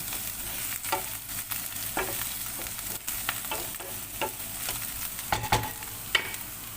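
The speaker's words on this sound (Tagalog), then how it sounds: "Luto tayong lovia beans." Lubia beans sizzle steadily in a hot pan while a utensil stirs them, giving repeated soft scrapes and taps over a continuous frying hiss, close but fairly quiet.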